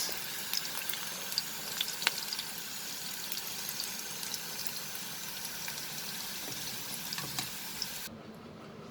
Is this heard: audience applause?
no